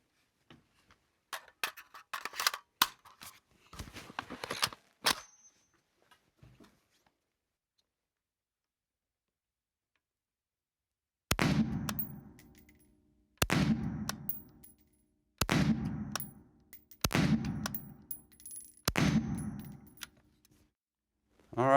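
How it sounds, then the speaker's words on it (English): Five sharp shots from a Springfield Hellion 5.56 bullpup rifle at an outdoor range, each with a loud crack and a decaying echo, evenly spaced about two seconds apart after a stretch of handling clatter and silence. "All right, there's 5 shots."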